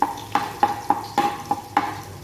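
Garlic sautéing in reused frying oil, a steady close sizzle broken by about eight rhythmic spatula strokes scraping the pan, with no talking.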